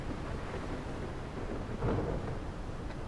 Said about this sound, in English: Might be better to wait for the storm to pass.